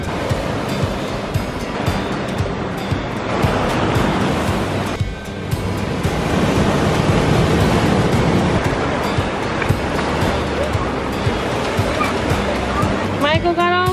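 Ocean surf crashing onto a beach, with loud, continuous breaking waves and wind buffeting the microphone throughout, a brief lull midway, and a short voice-like sound near the end.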